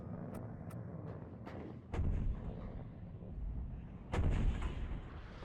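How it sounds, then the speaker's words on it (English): Artillery fire in the WARNO strategy game, two deep booming blasts about two seconds apart over a rumbling battlefield backdrop with faint distant shots. "The artillery is actually pretty good."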